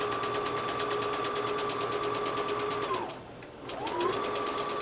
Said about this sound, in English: we're going to zigzag right along the edge to finish those seams.